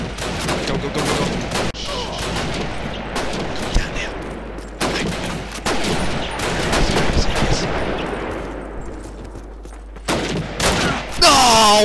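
Call of Duty gunfire cracks in loud, close bursts and single shots throughout, mixed with distant battle noise, and a voice speaks briefly between shots.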